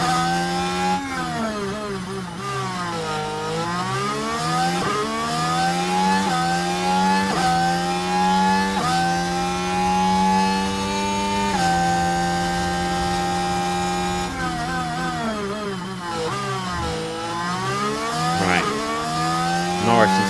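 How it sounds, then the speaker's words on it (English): Formula 1 race cars in the F1 Manager 24 game on the Baku street circuit, sustained high-pitched engine whine rising and falling through gear changes and braking, loud and continuous, no talking. "We just touched 348 kilometres there with Max into the braking zone."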